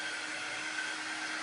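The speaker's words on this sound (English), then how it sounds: "I'm going to use my little air dryer and just dry this really quick so that it doesn't smudge" A small hand-held air dryer blows steadily on freshly applied chalk paint, producing a continuous, even whoosh of moving air at close range with no talking.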